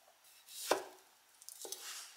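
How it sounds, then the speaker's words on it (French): Knife cutting beetroot into cubes on a cutting board: a few faint, sparse knocks against the board, one clear strike followed by softer taps, close and quiet, no talk. "Pour la betterave, je vais tout simplement la couper en cubes."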